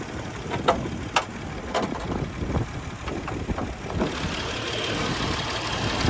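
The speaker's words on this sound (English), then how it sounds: "Original engine, year 94. Sounds good." A 1994 Jeep Cherokee XJ two-door with its original engine idles steadily up close, a low rumble broken by a few sharp ticks and clicks, with no one talking.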